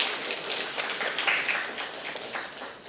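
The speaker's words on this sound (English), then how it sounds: "Please give Hollywood another round of applause." An audience at a media launch event applauds, giving a short round of moderate clapping that fades slightly toward the end.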